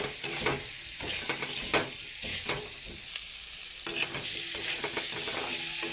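Potatoes fried in masala for aloo dum are stirred in a pan, with repeated scraping strokes over a steady close sizzle and no talking.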